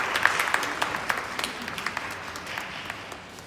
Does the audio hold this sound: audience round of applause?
yes